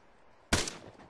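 A single sharp gunshot during military platoon training, a sudden loud crack followed by a short fading tail outdoors, after a quiet lead-in.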